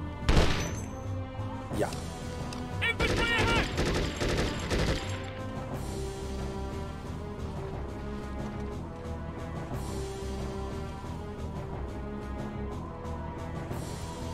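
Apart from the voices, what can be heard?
gunfire from video game Conflict: Desert Storm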